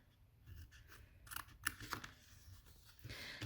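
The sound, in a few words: cutting paper to bevel a glue tab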